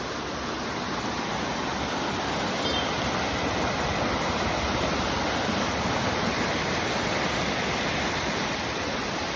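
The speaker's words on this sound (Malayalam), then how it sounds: "അവിടുത്തെ വെള്ളച്ചാട്ടം കണ്ടില്ലേ?" Waterfall near Kakkayam Dam in the high ranges, a steady, dense roar of falling water that holds without a break through the whole stretch, loud and close with no voices.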